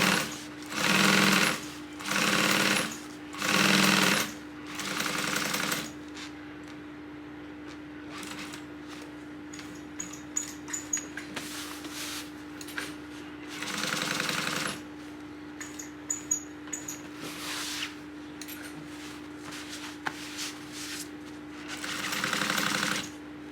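A sewing machine basting around the edge of a tote bag with foam interfacing, close rapid mechanical stitching in several short bursts separated by pauses, quiet handling noises between runs and no talking.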